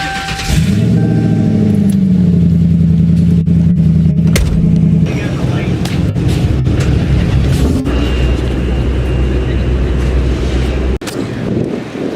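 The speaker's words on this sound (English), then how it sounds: "Let's get a quick cold start." Cold start of a Pontiac Solstice in the pits at a Street Car Takeover drag racing event in Charlotte: a loud engine crank and catch, then a steady rumbling idle that holds close to the microphone amid wind noise.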